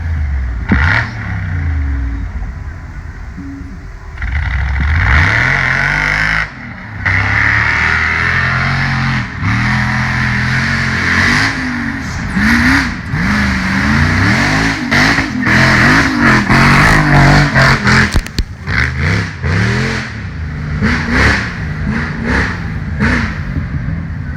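Rock bouncer race buggy with a cheap LS V8 engine roaring up a steep hill pass at an offroad racing event, loud sustained revving that surges and drops repeatedly with rising pitch sweeps and rattling clatter near the end.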